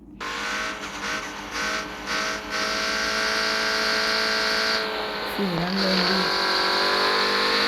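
A Mercedes-Benz car is driven off, its engine droning steadily throughout with a brief tire squeal or skid partway through, loud and close.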